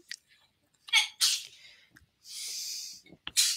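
A single sharp sneeze bursts out close by, preceded by quick breaths and sniffs, then followed by another short exhale in a quiet room.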